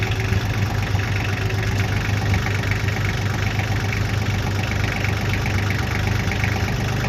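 A tractor engine runs steadily at a low, rumbling idle while pulling a vehicle out of a barn after more than ten years of storage, the sound continuous and fairly loud throughout.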